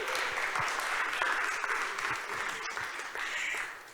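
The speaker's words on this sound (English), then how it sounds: "so maybe a round of applause" Audience at an athlete-empowerment event clapping together in a sustained, even round of applause that holds steady, then eases slightly toward the end.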